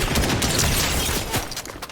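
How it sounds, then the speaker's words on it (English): Dense, continuous gunfire in a Fortnite match, a loud rattling burst of shots filling the whole moment with little pause. "there's another person shooting at you"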